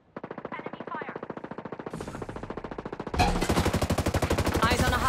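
Automatic weapon fire in Ghost Recon Breakpoint, a long unbroken rattle of rapid shots that grows louder and denser partway through, close and dominant with no pauses.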